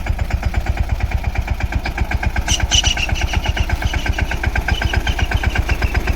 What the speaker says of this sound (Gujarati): પાછળ લઈ લે પાછળ લઈ લે ટ્રેક્ટર પાછો